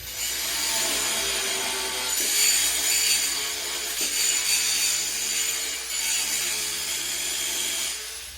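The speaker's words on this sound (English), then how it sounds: "that's just gonna be a grinder. Be careful of these fuel lines and grind this away." An angle grinder cuts away metal on a Dodge Daytona Turbo Z, a Shelby project car, near the fuel lines, giving a continuous loud whining grind that holds steady for several seconds with slight shifts in pitch.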